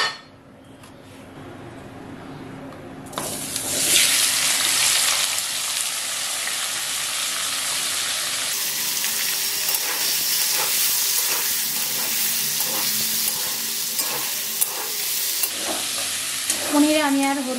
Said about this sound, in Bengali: পনিরটাও ভেজে নেব।